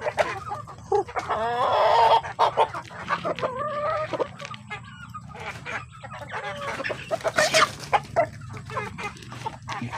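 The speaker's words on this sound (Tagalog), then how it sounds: "Pakain tayo ng manok." Farm chickens cluck and a rooster calls while being fed Purina feed mixed with rice. The birds sound busy and close, with overlapping squawks and clucks throughout.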